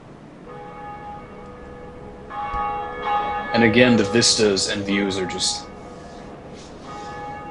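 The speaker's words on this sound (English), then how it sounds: "this is our first bell that we're ringing." A large bell in the Dark Souls video game rings with sustained, resonant tones that swell into a louder burst of clanging mid-way, then fade into a lingering hum while someone talks over it.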